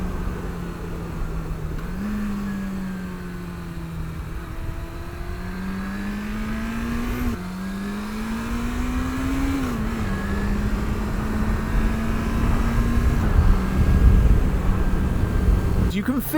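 A 1996 Yamaha YZF600R Thundercat motorcycle engine drones steadily while riding, its pitch rising and dipping through several gear changes and throttle shifts, with constant wind rush over it.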